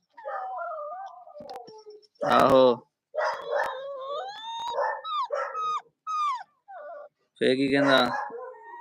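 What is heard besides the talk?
dog howling and barking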